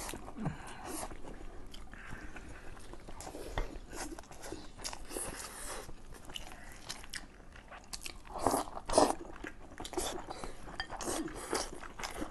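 Roasted duck is bitten and chewed up close, with repeated crunchy bites and moist chewing at an uneven rhythm, a faint clink now and then.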